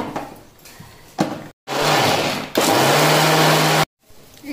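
A mixer grinder churns peanuts and coriander into a masala in two loud bursts of whirring motor roar, each stopping abruptly, with quieter handling noises and brief voices between runs.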